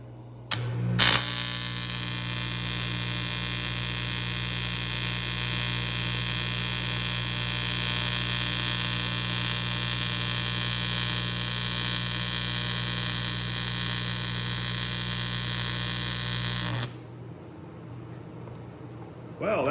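A TIG welding arc burns in one long, steady electrical buzz with a strong hum, loud and close, starting with a sharp crackle and cutting off abruptly after about sixteen seconds.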